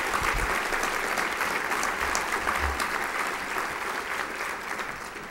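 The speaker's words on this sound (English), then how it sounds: "how about a final round of applause for all of our awardees" Audience at a regional assembly awards event applauds the awardees, a steady, dense round of clapping filling the room for several seconds and tapering slightly at the end.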